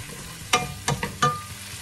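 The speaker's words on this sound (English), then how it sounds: "Let's put our beef in. Stir it. Saute it for 2 minutes or so." Beef sauteing in a pan for pepper steak, with a soft steady sizzle beneath three or four sharp scraping strokes of a utensil stirring it.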